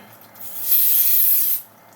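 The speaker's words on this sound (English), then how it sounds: "I'm going to use a little baking spray, a non-stick, and put it on the plate." A short, close hissing burst of non-stick baking spray onto a plate, lasting about a second, rising sharply and stopping cleanly.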